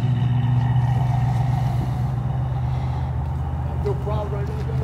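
A loud car engine, from a widebody Hellcat or Camaro drifting on a street, holds a steady low rumbling drone throughout with no talk.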